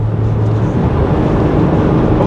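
A 2008 Mercedes ML350 runs at highway speed, giving a steady, loud, even drone of engine and road noise inside the cabin with no talk.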